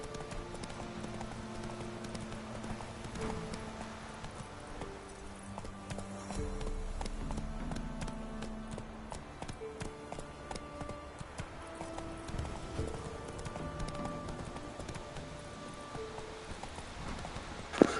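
Horse hooves clip-clopping at a gallop in The Witcher 3: Wild Hunt on PS5, a steady rhythmic beat under game music and ambience, with no talk.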